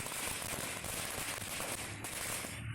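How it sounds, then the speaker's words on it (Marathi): Firecrackers crackle in a dense, continuous burst at a crowded celebration at the Sangamner bus stand, loud and unbroken throughout. "संगमनेर बसस्थानकावर फटाके फोडून घोषणाबाजी करत जल्लोष साजरा केला"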